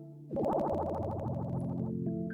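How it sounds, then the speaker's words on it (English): A tense, bubbly FM-synth melody, the Sonic the Hedgehog drowning music, with rapidly pulsing tones that speed up, loud and alone, like an urgent underwater countdown. "the deeply disturbing sound of Sonic drowning"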